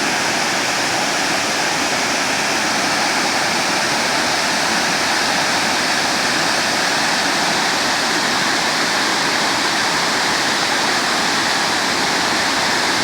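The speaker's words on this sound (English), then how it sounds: "just watching that water staircase down" Water pours over a dam into a waterfall at Lake Newport in Mill Creek Park, a loud, continuous broadband rush with no variation and no voices.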